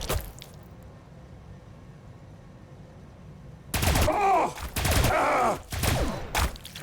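Warhammer 40,000: Battlesector battle gunfire erupts after a quiet stretch in loud bursts of rapid automatic fire, two or three sustained volleys with brief gaps between them.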